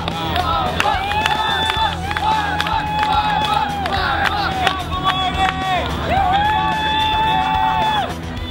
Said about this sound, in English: CEP's Papa Lopez finishes the last point from the snake and gets some love from the crowd